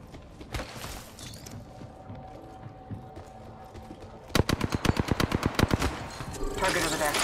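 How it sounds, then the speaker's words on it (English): Rapid automatic gunfire in a video game rings out in a tight burst of about a dozen sharp evenly spaced shots, following quieter scattered game noises, with distant firing and effects continuing afterward. "I'm being shot at."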